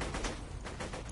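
Rapid bursts of gunfire in the Borderlands 2 video game, dense repeated shots across a short, loud stretch.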